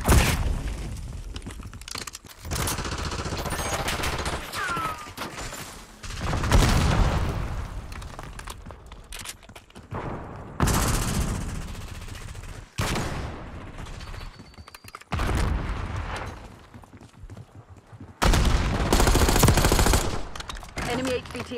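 Bursts of automatic gunfire and booms in a Black Ops 6 Kill Order team deathmatch, arriving in separated loud volleys with quieter gaps between them, with a voice talking over parts of the action.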